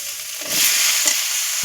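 Spice paste of cumin and coriander powder sizzles in a pan for a Malabar spinach and fish curry, a steady bright hiss that swells after a moment, with a brief scrape of stirring and no voices.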